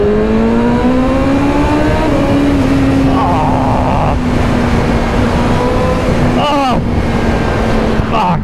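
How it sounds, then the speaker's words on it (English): A 2024 BMW M1000RR motorcycle engine revving on a ride, a strong rising engine whine with wind rush, loud and continuous, with a brief gear-shift dip near the end. "a little bit of an engine sound maybe"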